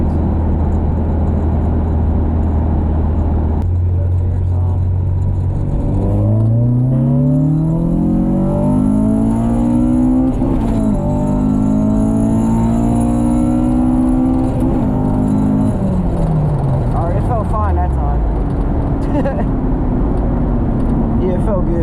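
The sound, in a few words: Honda Civic H2B engine accelerating during a pull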